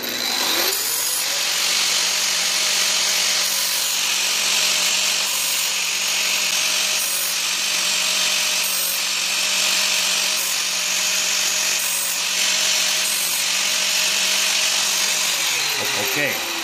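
A power tool sharpens the teeth of a circular saw blade on a homemade jig, grinding in a loud, continuous whine with faint periodic pulses, running alone for about fifteen seconds before winding down.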